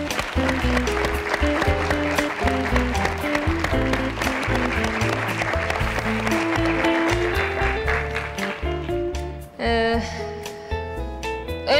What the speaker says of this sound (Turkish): Kocaman bir alkış alabilir miyim lütfen?